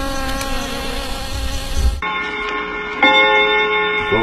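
Bees buzzing around a raffia palm during palm wine harvesting in western Cameroon, a steady insect drone with tonal hum, heavier and rougher for the first two seconds, then thinner and clearer; no speech.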